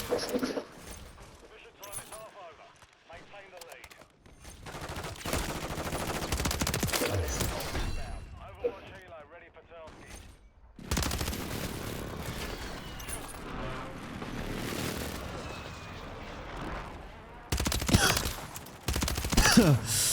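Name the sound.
Static HV SMG gunfire in the video game Modern Warfare 3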